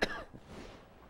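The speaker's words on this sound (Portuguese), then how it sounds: "Todo mundo sabe que final de gripe tem tosse, muita tosse" Single sharp cough from someone at the tail end of the flu, close and fairly quiet, trailing into a short throaty rasp and faint room tone.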